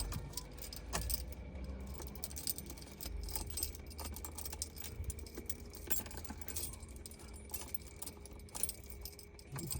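Ignition key in a Ferrari 308 GTB, close metallic jangling and clicking of the keys as they turn in the lock, in short bursts over a quiet background.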